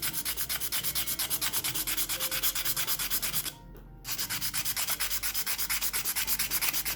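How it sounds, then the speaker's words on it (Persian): Steady rhythmic rasping of fine sandpaper wet-sanding a turquoise inlay jewelry piece, repeated back-and-forth strokes with a brief pause midway, no voices. "تا خیسه با همون سنباده نرم"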